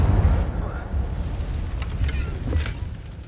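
An Incendio fire spell cast in Hogwarts Legacy gameplay, a dense, roaring burst of whooshing fire and rumble that stays loud for a few seconds and then fades slightly, with a few crackling flares near the end.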